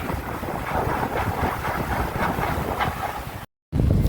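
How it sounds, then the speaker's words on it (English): HVAC cooling tower fan with failing bearings, a steady loud rumbling drone with faint rhythmic knocking, broken by a brief cut near the end before resuming. "That goes to show me those bearings are going bad up there."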